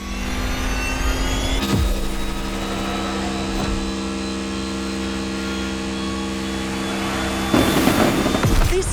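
Mercedes Vision EQ Silver Arrow electric concept car racing, a sustained loud whine with steady tonal hum, swelling into a rushing burst near the end, no voices.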